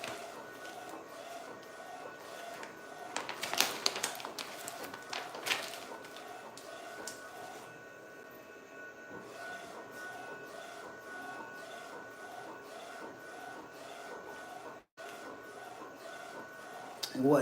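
A printer for shirt transfer prints runs with a steady, repetitive mechanical chatter and hum that pauses briefly partway through, quiet and continuous.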